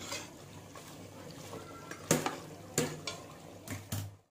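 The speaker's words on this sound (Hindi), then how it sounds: "और इसे अब अच्छे से भूनने देंगे हम" Chicken korma meat and masala being fried in a pan, giving a quiet background sizzle with a few sharp clinks and scrapes of a spoon stirring against the pan.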